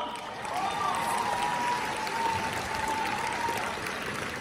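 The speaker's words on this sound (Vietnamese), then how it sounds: "giúp cho em tràng pháo tay thật lớn" A casino live-show audience applauds a singer with a broad, sustained roar of clapping and crowd noise, while a faint tone runs through the middle.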